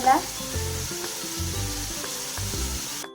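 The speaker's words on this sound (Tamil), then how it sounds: "ஆயில் சூடாகிட்டு நம்ம வெங்காயம் போடலாம்" Onions sizzling in hot oil in a pan, a steady close frying hiss with rhythmic stirring scrapes every second or so, no talk over it.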